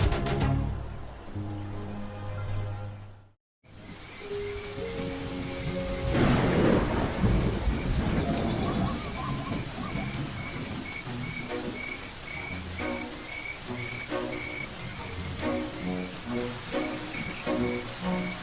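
Rain falls steadily on the Serengeti plain while thunder rumbles, with a loud close crack and long rolling boom, then continuous rainfall with scattered drops and faint frog calls.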